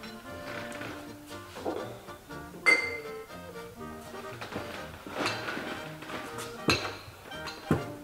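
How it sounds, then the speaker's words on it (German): A drinking glass clinks and taps a few times in a Bavarian comedy scene, sharp bright knocks scattered over several seconds amid soft background sounds, with no speech. "Bringst mir bitte schön ein Glas mit?"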